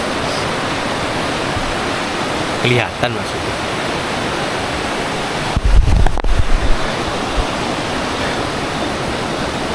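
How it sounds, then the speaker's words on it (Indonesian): River water rushing steadily in a mountain forest on a hiking trail, a continuous broadband roar close by, with brief voices speaking over it near the middle. "Ketemu sungai lagi."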